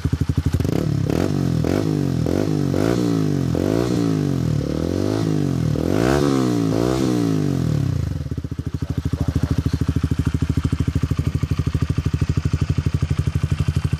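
A 2011 Honda CBR125R with a Scorpion exhaust and its baffle removed revs up and down in a rising-and-falling series of loud, raspy pulls, then settles into a steady, buzzing idle nearby.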